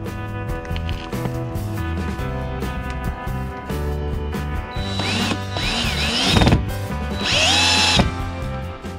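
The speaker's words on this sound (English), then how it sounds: "And screw it in." A power drill drives washer-head lathing screws into the side of an RV, whirring at a steady pitch, then rising in high, close-up whines as each screw seats.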